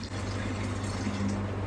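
Water pours steadily into a clay surahi pot, a soft continuous filling sound over a low hum.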